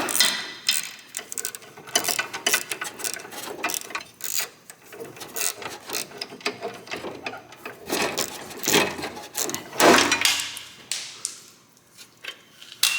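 A socket ratchet on a smaller swivel loosens a bolt in a tight spot on a Volvo XC, giving quick, close metallic clicking in repeated bursts with brief pauses between strokes.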